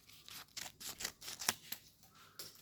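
Scissors snip through folded paper for a snowflake in a quick series of about a dozen crisp, close cuts, each a short sharp rasp with brief gaps, quiet and alone.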